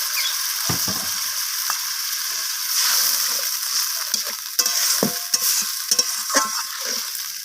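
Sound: stir-frying egg curry masala with coriander leaves and water

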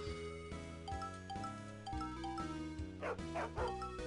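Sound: dog barking in the video game Puchi Eva

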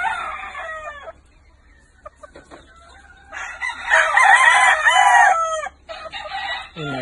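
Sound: young hen clucking

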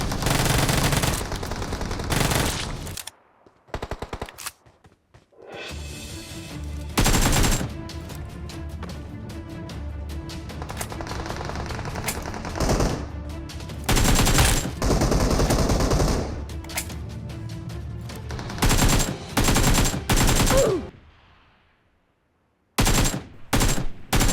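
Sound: gunfire in the video game PUBG Mobile

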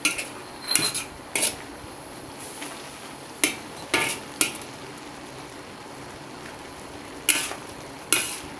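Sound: mashing and mixing pork spleen in a pot

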